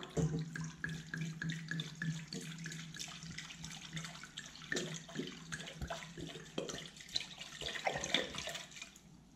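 Wine is poured into a pan for poached pears, a steady liquid splashing and trickling running throughout at moderate level with faint clinks.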